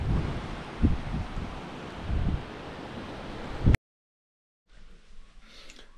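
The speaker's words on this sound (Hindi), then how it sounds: "बस मस्त समुंदर का हवा चलो" Sea breeze blowing on the Andaman coast near Chidiyatapu, heard as loud gusty wind rumble across the microphone with bursts and lulls, then a sudden cut to near silence before a fainter breezy background returns.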